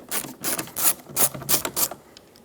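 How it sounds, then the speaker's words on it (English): A Phillips head screw backed out of the outer door handle area of a 2012-2017 Hyundai Accent, giving a series of short rasping, clicking turns close up. "remove the screw with a Phillips head bit."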